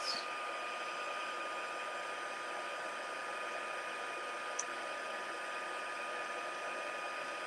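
A heat embossing tool blows hot air in a steady, fairly quiet whirring hiss that holds level throughout, with no voices.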